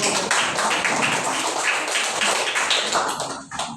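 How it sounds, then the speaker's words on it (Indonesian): A group applauds presenters at an academic coaching and supervision session, a dense, steady burst of clapping that holds for several seconds, then thins and fades near the end. "kita tepuk tangan untuk"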